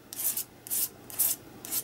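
Acrylic paint scraped across an ungessoed journal page with a scrap card: four rough, hissy strokes about half a second each, close and fairly loud, with brief pauses between.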